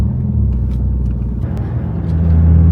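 A Volvo S60R T5 idling and cruising with its exhaust giving a deep, steady low burble, close and loud, with a slight swell in rumble near the end and no voices.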